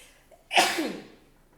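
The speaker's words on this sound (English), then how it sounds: "I'm about to sneeze." One close, loud sneeze, with a faint breath before it and a short trailing exhale after.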